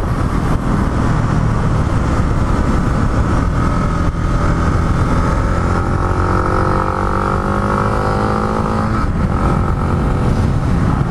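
An old motorcycle engine runs smoothly at about 90, a loud continuous drone with steady wind rush and a faint rising whine, no speech.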